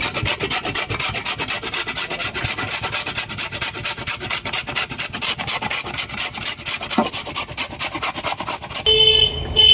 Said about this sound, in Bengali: অল্প করে গুড় নিয়েছি, গুড়টা গ্রেট করে নেব।